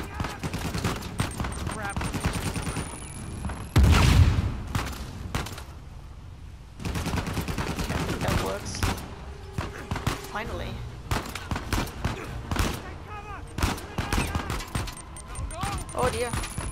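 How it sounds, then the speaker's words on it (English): Video game gunfire in Uncharted 4 rattles out in repeated bursts and single loud shots, close and sharp, while a player talks over the action. "He just constantly shoots."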